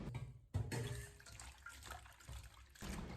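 Chili peppers, thin peppers and small bird's-eye chilies, are rinsed in water at a kitchen sink, with soft, steady splashing and trickling that pauses briefly and resumes, fairly quiet and close.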